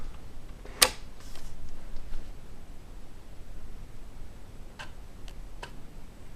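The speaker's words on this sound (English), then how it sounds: "I just hear the floppy drive clicking." A PC floppy drive modified to run on an Amiga, giving a few faint, sparse clicks and ticks over a quiet background hiss, with one sharper click near the start.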